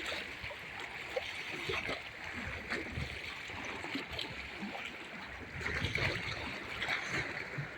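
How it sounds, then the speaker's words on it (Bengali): Waves washing onto the shore at Patenga sea beach, a steady rushing wash of water with small surges, fairly faint and continuous with no voices. "আর বড় বড় ঢেউ এসে আছড়ে পড়ছে কিনারায়।"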